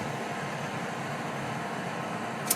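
A kitchen extractor fan runs steadily, a faint, even whoosh of air with no talking and one small click near the end.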